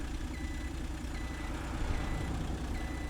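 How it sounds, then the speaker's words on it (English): A heavy truck passes in the SimNation Motor Grader driving game, its steady engine rumble swelling slightly as it goes by, with a faint reversing beep in the background and no talking. "Oh, here comes another truck."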